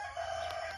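A backyard household rooster at a rural Thai home crows once, close and loud, in a brief burst with no talking.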